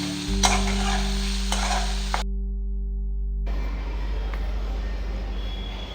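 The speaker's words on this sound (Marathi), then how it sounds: "भाज्या फ्राय होऊ देते मस्त." Mixed vegetables, cabbage among them, sizzle and fry steadily in a hot pan for a Manchurian dish, with brief stirring scrapes and a short dip in the noise midway.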